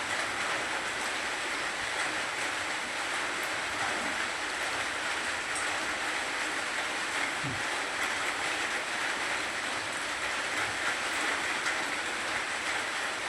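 Steady morning rain falls in a continuous, even hiss that lasts the whole stretch, with no distinct events or voices over it.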